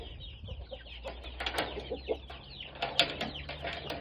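Chickens, including shamo and Indio Gigante fowl, cluck and chatter outside a run-down coop on a small farm, a loose scatter of short calls at moderate distance under quiet background hum.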